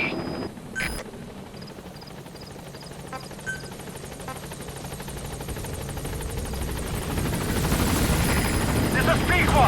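Pequod, a helicopter from the Metal Gear video game, arriving at a landing zone: a steady rotor drone grows louder toward the end, with a few electronic beeps and voices in the background.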